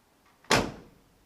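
The heavy door of a classic luxury saloon, more like a limousine than a family car, swings shut with a single solid, close thud. A short low decay follows in an otherwise quiet moment.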